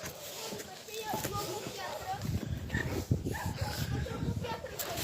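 Dogs bark and yip in the background, moderately distant and intermittent, while people talk close by outdoors.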